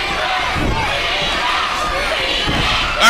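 A wrestling crowd in Morgan City roars and shouts in support of Green Man, a dense, loud wall of cheering and yelling from a packed room, with a sharp slam near the end.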